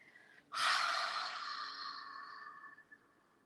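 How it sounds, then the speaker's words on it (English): A single strong breath pushed out through the mouth with the tongue extended during a yoga breathing practice, starting abruptly and then fading into a long, airy hiss. It is close and quiet, with no talking. "Breathing out, bring your tongue forward and out."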